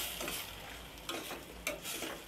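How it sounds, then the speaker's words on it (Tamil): Tomatoes with coriander and mint sauté in a pan for a tomato gravy, giving a faint, steady sizzle broken by two soft stirring knocks. "இது ஒரு 2 செகண்ட் வதங்கட்டும்."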